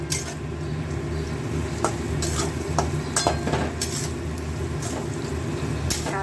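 Salt and spices being stirred in a pan for chicken kosha, a steady scraping and clinking with a low sizzle throughout, a few sharper utensil knocks standing out, close and fairly quiet.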